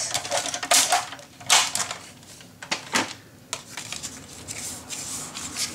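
Paper for a Halloween scrapbook mini album is cut close by in a handful of quiet, crisp snips and rubbing strokes, separated by short pauses, with no talking.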